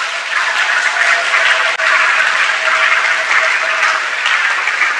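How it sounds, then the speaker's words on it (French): A church congregation applauds in praise of the Lord, a loud, sustained wash of clapping that holds steady from start to finish, with one brief dip partway through. "acclame le Seigneur"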